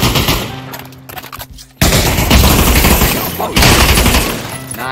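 Loud rapid gunfire bursts out in Dark RP VR. Volleys overlap in dense, sustained fusillades with a brief lull before the shooting resumes at full intensity.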